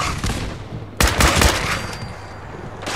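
Missile strike in the Fallout 4 video game, a sudden loud blast with rapid crackling bursts after a quieter lead-in, followed by a lingering rumbling tail.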